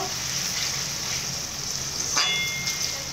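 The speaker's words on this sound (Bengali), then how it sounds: "এইভাবে ভালো করে নেড়ে চেড়ে ভেজে নেব" Onions for biryani frying in hot oil while being stirred, a dense continuous sizzle with a brief scrape of the spoon near the end, close and steady with no speech.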